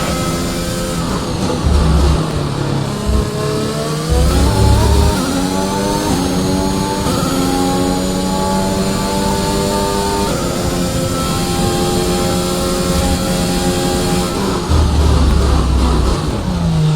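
A race car engine revs steadily through the final lap, its pitch rising and falling in long sweeping bands as it accelerates and shifts, loud and continuous with no voices.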